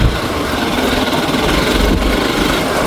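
A Hero XPulse 4V Pro motorcycle engine runs steadily and loudly up close by a riverside, a continuous rough mechanical drone with no clear pauses.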